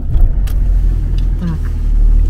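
A car on a cold, damp street pulls away with a low, steady engine rumble close by, and a voice speaks over it.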